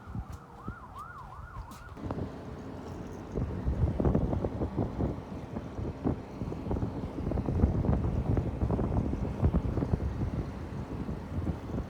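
A 1980 Chrysler Sea King 15 outboard boat motor drones steadily with a rough, sputtering chug, joined early by a brief warbling tone, close to the microphone with some wind noise.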